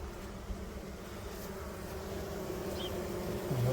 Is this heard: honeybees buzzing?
yes